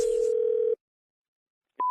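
A steady telephone tone sounds for under a second, drops to silence, then a short higher beep begins, as a line is dialed before a prank call on a radio show.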